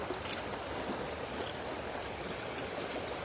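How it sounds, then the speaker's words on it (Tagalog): Water flowing in a small river shallows at night, a steady close rushing and babbling wash that fills the whole stretch evenly, with no voices. "Magalaw kasi tubig dito."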